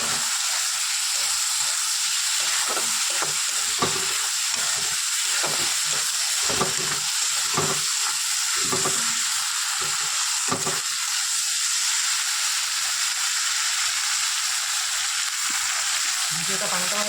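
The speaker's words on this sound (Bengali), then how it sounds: "মশলাটা খুব সুন্দর ভাজা হয়ে গেছে" Shrimp and onion masala for a watermelon vegetable curry fries in a pan with a loud, continuous sizzle and hiss. A spoon stirs through it in regular rhythmic strokes.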